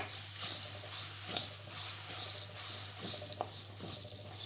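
Black urad dal dry-roasting in a pan gives a steady, soft crackling sizzle with a few faint stirring scrapes, heard close and alone over a low constant hum.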